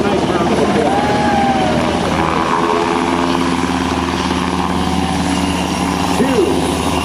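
UH-60 Black Hawk helicopter with twin General Electric turboshaft engines hovering at a military open house demonstration, a loud steady rotor and turbine roar throughout with an announcer talking over it.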